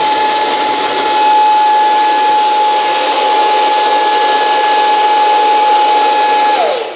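E-flite Habu SS 50mm electric ducted fan model jet spooling at high throttle for reverse thrust, a loud, steady, whining roar with a sharp high tone that holds throughout and then drops off abruptly at the end.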